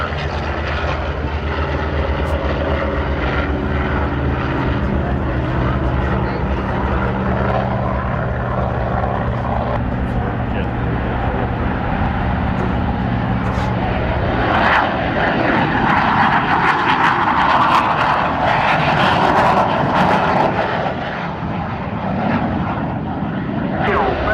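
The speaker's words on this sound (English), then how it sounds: "And Joe Tobe will take me off in the F4U in the Corsair." F4U Corsair propeller fighter flying at the NAS Oceana air show, a loud droning piston engine roar that holds steady then shifts in pitch as it passes, heard from the crowd with voices mixed in.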